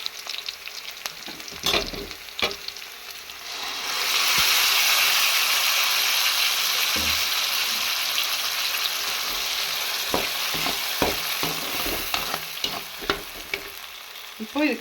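Onions and tomato sizzle in hot oil in a pan, with scattered stirring clicks before a loud, sustained frying hiss swells in and then settles, followed by more intermittent scraping and stirring.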